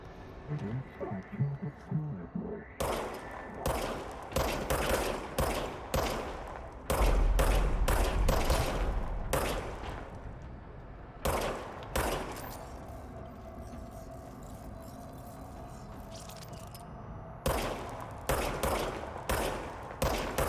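Repeated bursts of video game gunfire, some single loud shots and some rapid machine-gun volleys, come in clusters with short pauses between them, close and loud over a low ambient game background.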